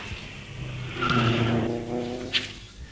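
John Pick's AMS Motea 2-litre hillclimb car on Subaru Impreza running gear passes in a steady engine drone, its pitch holding then easing away, with a brief sharp burst near the end.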